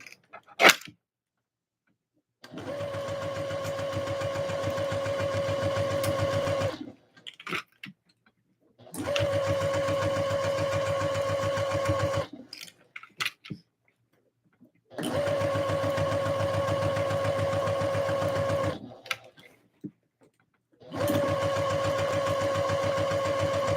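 A sewing machine stitches a skirt seam in four sustained runs of a few seconds each, with a steady whirring hum and brief quiet pauses between them, close and fairly soft.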